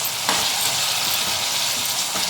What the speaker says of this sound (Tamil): தக்காளியை போடுறேன். தக்காளியை நல்லா வதங்கட்டும்.